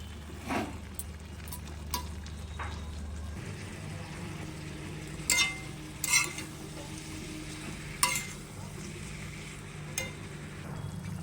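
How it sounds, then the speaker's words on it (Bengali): Banana flower sizzles and fries in a pan while a utensil stirs and scrapes now and then, with low background hum. "মোচাটাকে ভালোভাবে কষানো হবে।"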